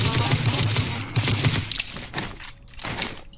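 Gunfire in the mobile battle royale game Rules of Survival: a dense, loud flurry of shots and impacts in irregular clusters, crackling and clattering near the listener, with no speech over it.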